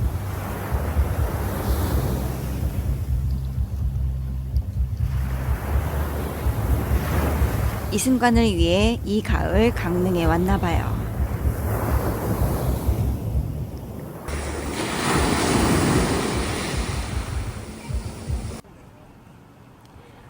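Autumn ocean waves roll and break on a beach at Gangneung, a steady loud wash of surf with wind noise, while a person talks over much of it before the sound drops away near the end.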